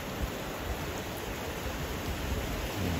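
Steady rain falls in Dubai as a dense, even hiss, continuous and fairly close throughout, with no voices.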